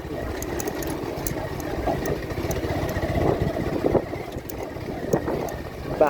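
A motorbike engine runs close by with a steady buzzing drone and uneven revving pulses, a little wind noise over it, and a voice speaks briefly.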